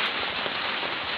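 Rain falls steadily on a home garden with potted succulents and a money plant on a rainy morning, a dense close hiss of drops on surfaces with no voices.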